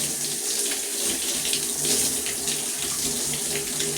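Running tap water streams steadily over an African net sponge being rinsed at a sink, a continuous close splashing rush without pauses or speech.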